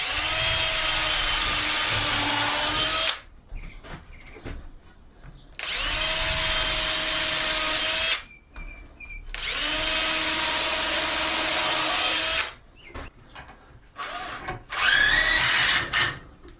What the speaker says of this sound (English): My screw gun might be getting wore out.